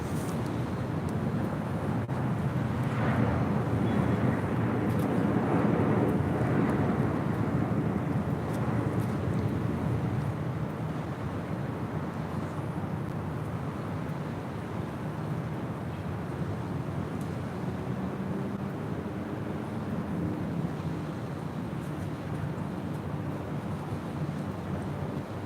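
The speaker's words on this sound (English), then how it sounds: "That was Air Premia 102 departing to Seoul on a 787-9 Dreamliner." Air Premia 787-9 Dreamliner jet departing LAX for Seoul, a steady broadband roar of engines that swells early on and then holds at a continuous, moderately loud rumble mixed with wind buffeting, no voices.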